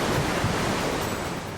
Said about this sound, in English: The swollen creek is now threatening to engulf his tent.